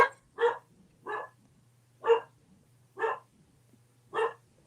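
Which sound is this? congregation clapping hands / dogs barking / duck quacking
dogs barking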